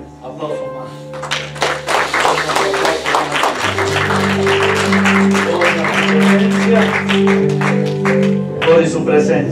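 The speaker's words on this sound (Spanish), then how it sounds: "Aplauso más." Church congregation applauding during a worship service, a sustained wash of clapping under steady amplified music and a preacher's voice speaking over it.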